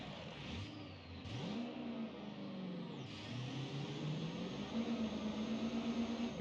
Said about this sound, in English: Now here's how the Duramax sounds.